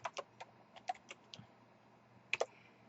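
Typing on a computer keyboard while writing code, a faint, close run of scattered key clicks with uneven pauses and a pair of sharper taps near the end.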